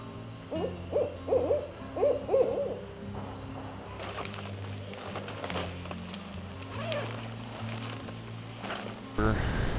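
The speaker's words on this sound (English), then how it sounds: "you can hear Owl hooting." Soft owl hoots repeat in a short rhythmic series early on, fairly distant, over a low steady background hum with occasional rustling, at night at Indian Boundary Campground.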